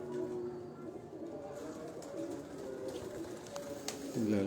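Soft cooing of a pet pigeon kept by a breeder, low repeated murmurs over steady background noise, fairly close, with no talk over it.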